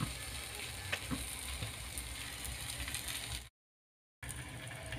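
Methi thalipeeth flatbread sizzles steadily on a hot pan, a dense crackling hiss with a few faint scrapes, broken by a short gap of silence before the sizzle resumes.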